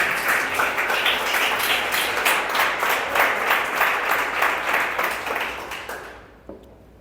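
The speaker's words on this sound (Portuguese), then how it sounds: "Dê um forte aplauso ao Senhor por isso." A church congregation breaks into dense, sustained applause that holds steady for about six seconds, then quickly trails off to near silence.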